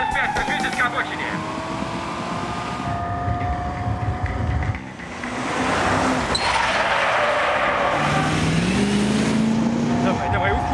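A car speeds away from police, its engine straining in loud, continuous revs with gear-shift dips and sharply rising pitch as it accelerates, alongside a brief lull and surge of broadband road noise.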